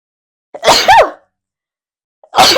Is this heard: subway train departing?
no